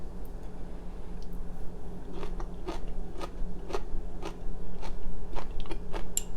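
Someone bites into and chews stir-fried kimchi with spicy pork, giving close, crisp crunches in an uneven rhythm over faint background noise.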